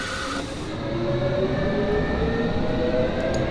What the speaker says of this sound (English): This is a Metropolitan Line service to Amersham, and this train is ready to go